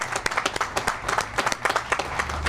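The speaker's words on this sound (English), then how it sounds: "You can clap for that." An audience applauds, many hands clapping together in a dense, steady burst that carries through the whole moment.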